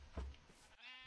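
A single short sheep bleat from Minecraft, quiet and close, with a brief wavering cry.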